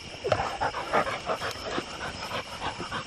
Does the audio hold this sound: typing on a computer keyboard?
no